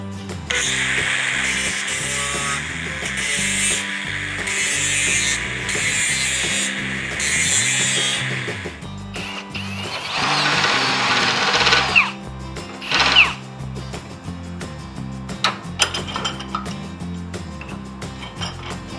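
A power drill with a step drill whines steadily as it bites into metal for a homemade bucket grapple, a high grinding buzz that stops and starts, followed by clanks and handling noises.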